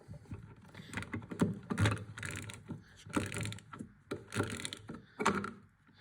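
A screwdriver turns the blade collar of a Vitamix blender counterclockwise, giving bursts of quiet ratcheting, grinding clicks in uneven clusters, close up and with no talking.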